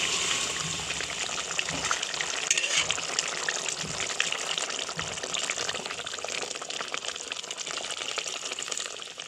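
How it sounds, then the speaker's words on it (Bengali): Hot water pours into a wok that was used to fry fish and yam for a fish-and-yam curry. It makes a steady, continuous watery gush up close with no voices. "এটাতেই মা জল গরম করে এটাতে ঢেলে দিয়েছে"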